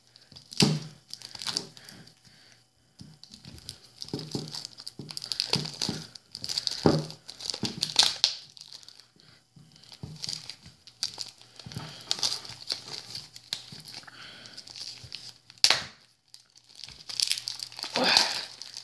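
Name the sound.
crinkling plastic wrapping while opening Trésor X card packs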